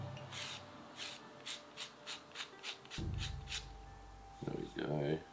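A small craft piece is sanded with a sanding stick in a quiet room, about ten short, evenly spaced rasping strokes close up, followed by a little handling noise.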